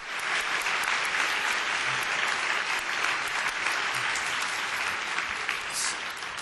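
Banquet audience at a national convention awards dinner applauding, a steady, even wash of many hands clapping that holds for several seconds with no voices on top.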